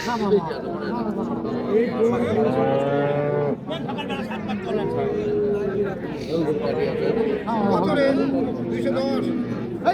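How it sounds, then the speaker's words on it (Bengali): Dairy cows with calves moo repeatedly in long, low calls, with a crowd of people chattering all around them at a busy outdoor cattle market. "আর এই হলো বাচ্চা সহ গাভীরা দর্শক"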